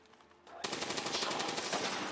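Rapid automatic gunfire in the turn-based strategy game XCOM 2 begins abruptly after a quieter lead-in, then holds as a loud, continuous clattering volley until the end.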